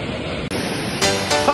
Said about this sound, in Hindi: चीरते हुए पानी को नीचे आ रहे